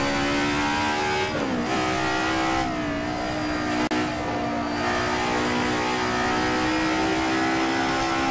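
A DTM Group A race car in Assetto Corsa accelerates around the Nürburgring, its engine note loud and close, climbing through revs with brief dips at gear changes before pulling hard again.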